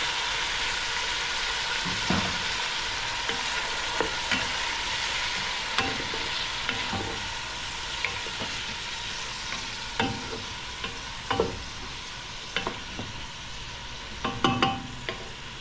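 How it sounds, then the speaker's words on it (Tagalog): Boiled beef frying in oil in a pan, stirred steadily with soft continuous sizzling and repeated scraping clicks of the utensil against the pan, close and fairly quiet, with no talking. "lagyan na natin yung bakang pinakulunan natin"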